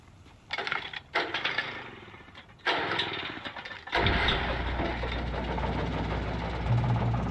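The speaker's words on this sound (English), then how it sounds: "That's when I heard the chainsaw." A chainsaw engine cranks over in a few sputtering pulls before catching and running in a steady rough drone, loud and close, in the Alan Wake Remastered video game.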